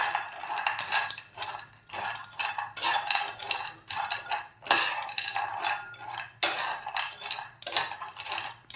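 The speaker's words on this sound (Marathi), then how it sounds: "तर आपल्याला हे अगोदर सर्व पॅन मध्ये छान असे भाजून घ्यायचे आहेत।" Cashews, walnuts and makhana roasting in a pan, with repeated clinking and scraping bursts as the dry nuts are stirred and tossed against the metal, irregular and close.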